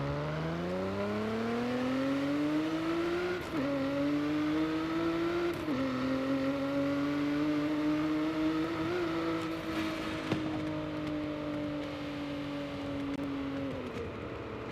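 Nissan Z NISMO engine accelerating in Forza Horizon 5, a smooth rising drone that climbs through several gear shifts with brief dips, then holds a steady high note before easing off, no talking.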